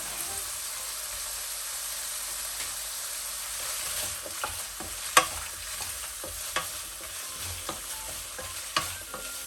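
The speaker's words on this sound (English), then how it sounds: "Once we got enough oil out of the pork belly, we are going to add in ginger, spring onion, garlic, chili, and star anise." Ginger, spring onion, garlic, chili and star anise frying in rendered pork belly oil: a steady close hiss and sizzle with scattered small pops and clicks of stirring over several seconds.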